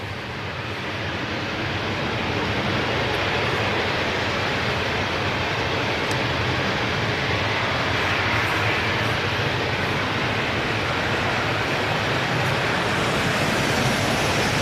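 A Ryanair airliner arriving at Manchester Airport produces a broad, steady jet roar that swells slightly at the start and then holds loud and constant, like a plane passing fairly close.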